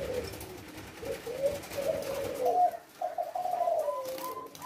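A leopard silver spotted dove (tekukur) coos in low, rhythmic repeated phrases, close and clear over a quiet background.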